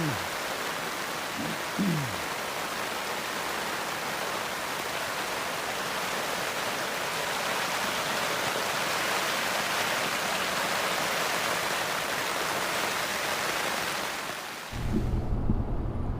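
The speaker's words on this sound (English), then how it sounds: "And the rains come." Steady rain pours onto a travel trailer at a South Carolina campground, a dense, even hiss that holds for over a dozen seconds before a brief low rumble near the end.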